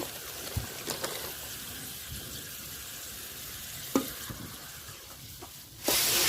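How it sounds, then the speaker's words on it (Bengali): Vegetables sautéing with turmeric, green chili and salt in a pan for a dried-fish curry, a low steady sizzle broken by a few sharp scrapes of stirring, fairly faint and without talk. "তো আমি সুন্দর করে সবজিটা কষা নিছি"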